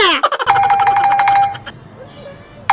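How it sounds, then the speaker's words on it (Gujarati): A phone rings loudly and close, an electronic tone that sustains for about a second before trailing off, with a brief burst of voice or noise at the start and another tone returning at the end. "ફોન વાગે છે"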